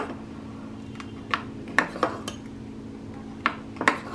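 A ladle stirs sprouts dosa batter in a metal vessel, giving a few scattered clinks and scrapes over a steady low background hum.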